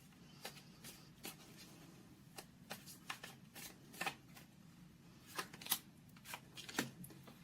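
Tarot cards being shuffled by hand, a series of crisp riffling snaps and soft slides at an uneven pace, close and quiet with a faint background hum.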